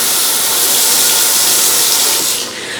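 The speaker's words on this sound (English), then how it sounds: "The water's on and there's no leaks or no dripping" Kitchen sink faucet running full, a loud, steady hissing rush of water that drops off abruptly near the end.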